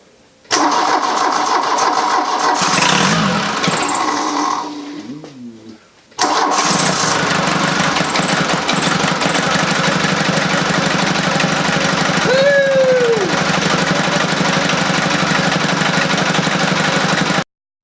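A 1982 Volkswagen Rabbit diesel, just fitted with a replacement injection pump, cranks and then catches. It settles into a loud, steady, clattering diesel idle that keeps running close by, with a short dip in the noise partway through.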